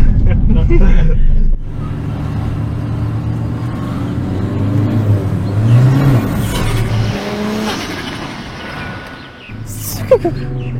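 A 2016 Peugeot 208 rally-prepared petrol car heard from inside the cabin, its engine droning and revving with shifting pitch, loud and close, while people talk over it.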